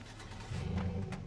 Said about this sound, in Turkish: Hacı bu arabanın sesini de oynamışlar ya.